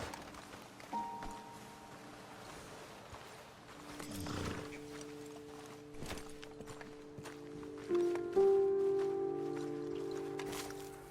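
Horses in a western video game shift and walk on a ledge, with soft scattered hoof clops and a breathy snort-like rush, faint beneath a sustained musical tone.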